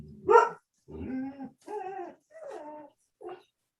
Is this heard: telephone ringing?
no